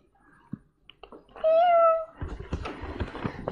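A single clear, drawn-out cat meow rises and falls, followed by scuffling and rustling noises.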